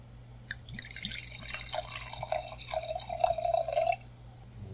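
Akita sake poured from a freshly opened bottle into a glass, a steady liquid trickle and glugging stream running for about three seconds, close and fairly quiet, with no talking.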